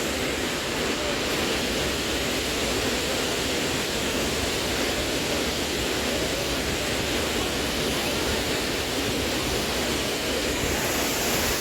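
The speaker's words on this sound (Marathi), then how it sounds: "हा जो वसुंधरा वॉटरफॉल आहे बघा" Vasundhara waterfall roars as a dense, unbroken rush of falling water, loud and steady throughout with no pauses.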